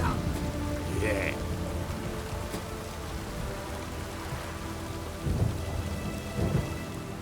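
Rain and thunder in The Witcher 3: Wild Hunt: a dense, steady downpour hiss with low rumbles of thunder that swell twice near the end.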